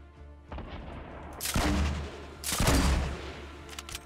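Two loud bursts of gunfire from the video game Fortnite, each a sharp broadband blast with a short tail, spaced about a second apart over a quiet background.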